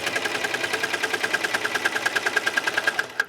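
A serger sewing a flatlock stitch along folded fabric runs in a fast, even mechanical chatter of rapid repeated stitch beats, close and loud, ending with a sharp click as it stops.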